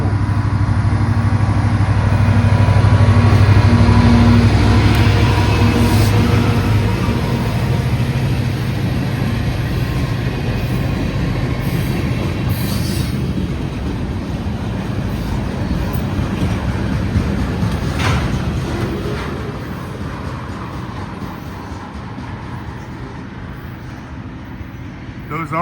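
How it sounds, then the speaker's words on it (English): A short CSX local freight train, led long hood forward with argon tank cars at the rear, passes as a loud, sustained low diesel rumble with wheel noise that slowly fades. Wind buffets the microphone throughout. "we got the local coming up, LO4. He's not very long, but it's a train."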